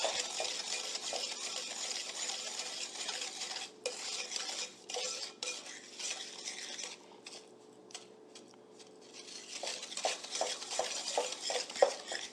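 Spoon stirring sugar into brownie batter in a bowl, a steady scraping and clinking rhythm that runs continuously, close and fairly loud, with a brief softer lull near the end before the stirring picks up again.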